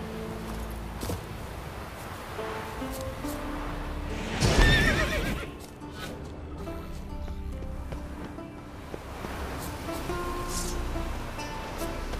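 Roach, a horse in the video game The Witcher 3, lets out a loud neigh midway over a background of hoofbeats and ambient game sound.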